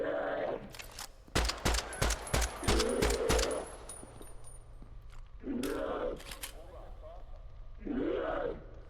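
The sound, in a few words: gunfire from a recoilless gun in a video game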